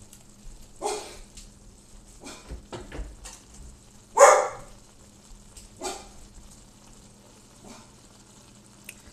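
A dog barks indoors in a few separate short bursts spaced several seconds apart, near and moderately loud over a quiet, faintly humming background.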